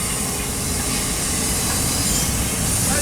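Trains rolling past on tracks at Cajon, Colton or Fullerton, railcars passing close on both sides with a steady loud rumble of wheels, a faint hiss and occasional wheel squeal running throughout, with no voices.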